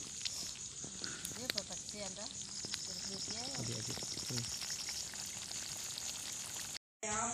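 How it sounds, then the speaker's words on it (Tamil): Steady sizzling and bubbling of tamarind-water pirandai (adder's creeper) gravy in a pan, with occasional stirring clicks and scrapes, close up, briefly cutting out near the end. "கரைச்சி வச்சிருக்க புளி தண்ணியை கடைசியாக ஊற்றி ஒரு கிண்டி கொதிக்க வச்சு எடுத்துட்டோம்னா"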